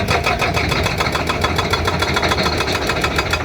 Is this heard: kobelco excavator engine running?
yes